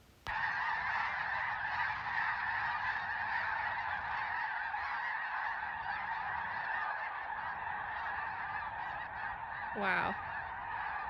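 A large flock of snow geese honks continuously in a dense, steady chorus at moderate distance, with one closer call standing out near the end.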